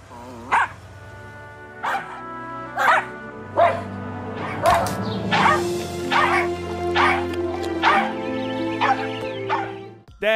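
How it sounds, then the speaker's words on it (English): Puppies in a Super Bowl commercial bark, yip and whimper in a steady series of about a dozen high, close calls over a low musical backdrop. "I'd like it better with puppies."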